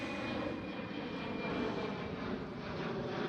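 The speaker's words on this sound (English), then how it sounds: "Cathay Pacific Airbus A350 1000." A Cathay Pacific Airbus A350-1000 jet at Schiphol Amsterdam gives a steady, moderately distant engine roar with a faint high whine riding over it, and no voices.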